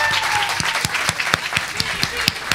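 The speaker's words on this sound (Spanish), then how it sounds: "Los que aplauden a Luis Miguel." Scattered, sparse clapping from an audience voting for Luis Miguel at a live show in Uruguay, individual claps spaced unevenly over a noisy room with background voices.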